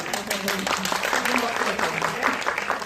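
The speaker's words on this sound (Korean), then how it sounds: "첫 번째 박수는 크게 치시고 두 번째 박수는 약간 어쩔 줄 모르는" Audience applause at a Korean film screening talk for the movie When I Sleep, with steady dense clapping filling the clip and some faint overlapping voices mixed in.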